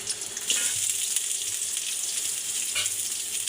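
Chopped garlic goes into hot oil already frying with chili and onion, producing a loud, continuous hissing sizzle that swells slightly in bursts, close up and without speech.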